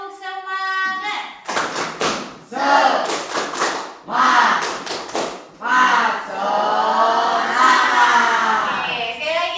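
A classroom group claps a quick rhythmic pattern in sharp bursts, then the whole class shouts a chant together loudly, close by.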